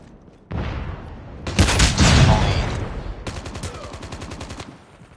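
Flashbang grenade going off in the mobile shooter game Call of Duty Mobile, a sudden loud burst followed by a dense crackle and a ringing wash, with rapid gunfire-like clatter trailing after.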